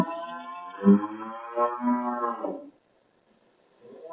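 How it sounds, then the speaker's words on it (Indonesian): Seven-month-old PO (Peranakan Ongole) cattle giving a single loud, drawn-out moo up close, followed by a brief silence and a faint stir at the end. "Sapi PO ini usia 7 bulan."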